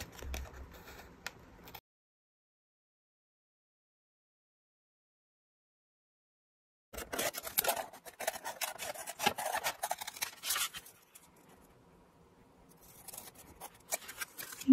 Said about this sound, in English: Now we will take this side and we will cut off any excess.